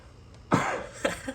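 A single sharp cough close to the mic, followed by a couple of smaller throat-clearing coughs.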